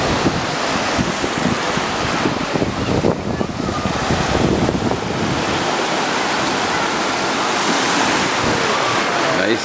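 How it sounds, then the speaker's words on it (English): Waves on a sandy, shell-strewn beach: a steady wash of surf heavily buffeted by wind across the microphone, loud and continuous. "Nice day at the beach."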